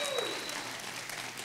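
College football fans in a comedy audience answer with applause, a short wash of moderate, even clapping that fades slightly.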